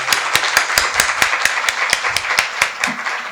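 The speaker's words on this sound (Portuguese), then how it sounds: "Por favor, palmas por Gerson." Audience clapping for Gerson at the closing of a film-discussion event, a steady patter of hands with sharper individual claps standing out, close and fairly loud throughout.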